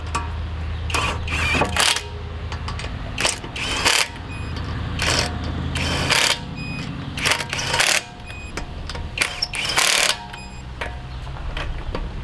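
Torque wrench tightening 19 mm wheel nuts on a car, a series of close mechanical ratcheting clicks in bursts of a second or so, with short pauses between pulls and no talking.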